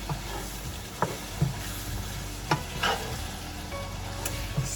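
Chopped garlic is stirred into a broccoli slaw and ground beef stir fry, a steady close sizzle broken by several sharp scraping stirs.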